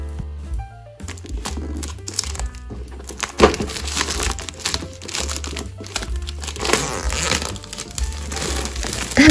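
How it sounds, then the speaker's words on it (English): Crinkling and crushing of packaging as an Arrtx art product is unpacked, with dense, irregular rustles and crackles running throughout over a steady low musical backdrop. "there's still a bit more unpacking to do"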